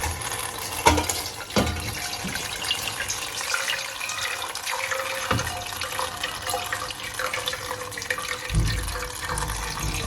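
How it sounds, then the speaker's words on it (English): Water pours and splashes steadily into a sink or strainer as it is drained from cooked cabbage, with a few clunks and knocks as the liquid drains away. "We'll go ahead and strain the water."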